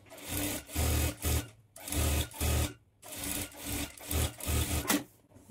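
Sewing machine stitching the lining of a high-neck blouse, running in short repeated bursts of rapid whirring, each lasting under a second, separated by brief pauses, close and clear with no talking.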